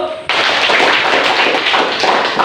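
A classroom of students claps hands together, a loud, dense burst of rapid clapping that starts abruptly and continues close by.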